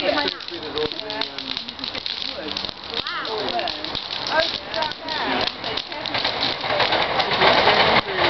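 A bonfire on bonfire night burns with a dense, steady crackle and rushing hiss, fairly loud throughout, while people talk excitedly over it.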